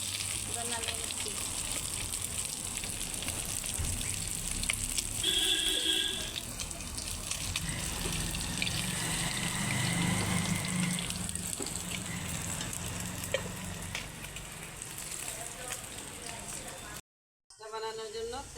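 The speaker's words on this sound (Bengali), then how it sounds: "আমাদের মাছগুলো, রুই মাছগুলো ভাজা হয়ে গেছে, এবার নামিয়ে নিচ্ছি।" Rohu fish pieces fry in hot oil, giving a steady sizzle beneath a talking voice, with a few clinks and a brief cut to silence near the end.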